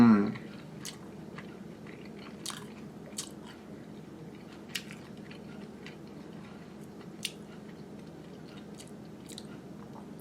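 Someone eats a salad, with soft chewing and occasional faint crunchy bites scattered through a quiet stretch, close to the microphone and without talk.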